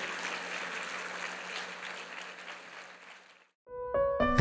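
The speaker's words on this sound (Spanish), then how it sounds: "Dale al Señor ese aplauso grande, dáselo grande al Señor" A standing church congregation gives a loud round of applause that thins and fades out. After a short silence, clear sustained musical tones begin.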